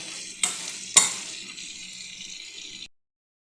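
Vegetables for Filipino ginisang gulay hit a pan to sauté, two bursts of sizzle with stirring clatter settling into a steady hiss that cuts off abruptly.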